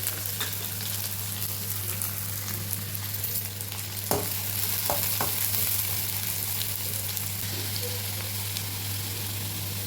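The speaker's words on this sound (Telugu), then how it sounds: "ఆయిల్ వేడిన తర్వాత ఉల్లిపాయలు" Onions frying in hot oil for a dried fish and tomato curry, a steady dense sizzle running throughout over a low hum, with a few faint stirring clicks around the middle.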